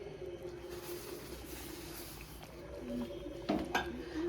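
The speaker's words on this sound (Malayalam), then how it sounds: "അപ്പോൾ റവ ഇങ്ങനെ മെല്ലെ ഇട്ടിട്ട് നമ്മളൊന്ന് ഇളക്കി കൊടുക്കണം കേട്ടോ" Semolina is stirred into boiling water in a cooking pot, a faint steady hiss and bubbling with a couple of sharp metallic scrapes and clinks of the spoon against the pot near the end.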